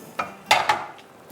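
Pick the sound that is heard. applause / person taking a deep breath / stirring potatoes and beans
stirring potatoes and beans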